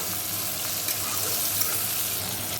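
Latha fish and bitter gourd frying in a pan, an unbroken, near sizzle with faint stirring underneath, no speech.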